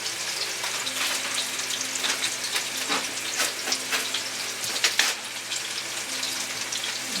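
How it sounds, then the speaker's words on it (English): Chicken browns in a pan with a busy, crackling sizzle, broken by a few sharper pops and spatters and a louder burst near the middle. "all I'm going to do is brown this chicken"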